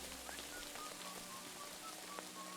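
Rain falling in the video game Kingdom Come Deliverance 2, a soft steady patter of drops under faint background tones, with a few brief chirps scattered through.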